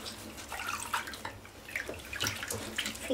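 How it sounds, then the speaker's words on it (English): Water is squeezed and splashed over a small child in a bath, producing irregular close splashing and trickling in short bursts, with a faint soft sound at the very end. "Gonna squeeze water on you."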